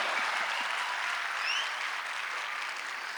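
Sustained audience applause at a Hindi comedy poetry show (hasya kavi sammelan), a steady dense wash of clapping from a large crowd filling the whole stretch, fairly even in level, with no speech over it.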